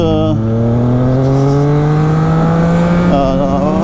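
A Triumph Street Triple 660S motorcycle revs up through the gears, its rising engine tone broken by quick quickshifter upshifts, loud and close.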